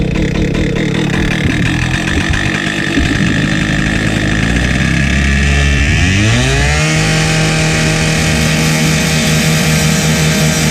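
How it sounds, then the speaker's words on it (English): Construction machinery engine, such as a compactor, trencher, skid steer, mini excavator or concrete saw, running loud and close, with a gritty engine roar that revs up and settles into a steady higher pitched drone. "We use a lot of noisy machinery in our business, from compactors, trenchers, skid steers, mini excavators, especially the concrete saw to cut concrete."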